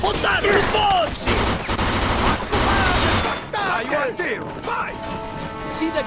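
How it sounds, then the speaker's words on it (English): Heavy gunfire rattles through a Mafia II shootout, dense bursts of machine gun fire mixed with crashing impacts, while voices shout over the din. "Get on that machine gun!"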